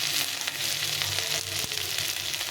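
Spices fry loudly in a pan for a curry of jackfruit seeds and Malabar spinach, a steady dense sizzle with faint stirring scrapes and no voices.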